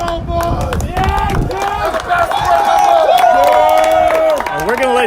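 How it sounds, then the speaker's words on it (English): Fans at a youth high school baseball semifinal cheer and clap for the winning Tigers. The whooping voices and scattered applause ring out loudly and continuously over a busy crowd. "they get a round of applause from the Tiger faithful"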